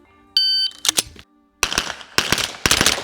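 A short electronic timer beep, then a rapid string of loud, close carbine gunshots in quick bursts, echoing sharply.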